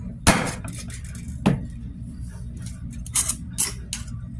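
A hammer strikes a small homemade #11 percussion cap, giving a sharp crack early on and a second lighter hit, followed by faint metallic clinks in a quiet room.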